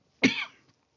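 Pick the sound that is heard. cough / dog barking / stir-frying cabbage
cough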